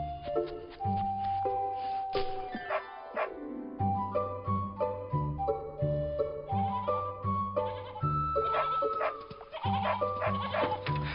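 Sheep bleat again and again, wavering cries that rise over a steady, fairly loud musical backing for the whole stretch.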